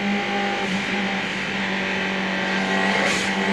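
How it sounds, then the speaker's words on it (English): Colin Bond's Caltex Ford Sierra, car number 8, racing at Bathurst in 1991 from an onboard roof camera: loud, sustained engine drone with steady wind and road roar throughout. "as we take our race cam. Sitting on top of Colin Bond's Caltech Sierra, car number 8."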